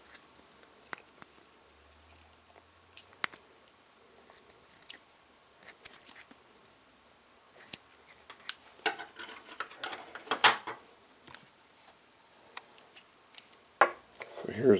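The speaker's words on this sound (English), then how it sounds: "I've got to have the dullest scissors on YouTube." Dull scissors snipping through paracord while a cobra-weave keychain is finished, giving sparse quiet clicks and crunchy cuts with small handling noises between them, fairly close and faint.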